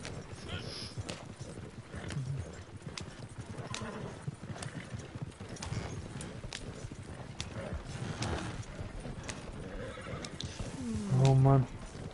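Horses galloping in Red Dead Redemption 2 Online, hooves clip-clopping steadily behind mounted riders, with a whinny near the end.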